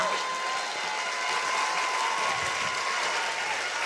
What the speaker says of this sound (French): Il faut applaudir la Bible dans cet endroit.